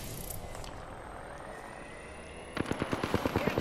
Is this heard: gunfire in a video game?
yes